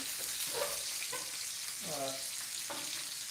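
Constant hissing sizzle of chicken thighs pan-frying in hot oil, close and steady, with a few faint vocal sounds beneath it.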